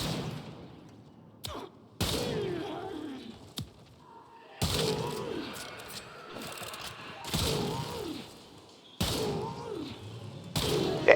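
A Kuva Chakkhurr rifle in Warframe fires four or five separate heavy, blasting shots at enemies, each a sharp loud crack with a short ringing tail, spaced a couple of seconds apart over quiet game ambience.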